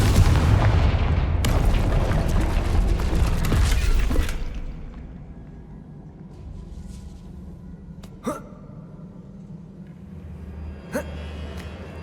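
Confringo blasting spell explosion in Hogwarts Legacy, a loud rumbling burst that fills the opening seconds and then fades into quiet ambience broken by a couple of faint sharp clicks.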